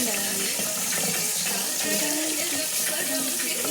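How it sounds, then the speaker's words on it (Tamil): Water runs steadily from a tap into a sink while hands are washed, a close, continuous splashing gush with a voice speaking faintly under it. "கை தேய்ச்சி கழுவு."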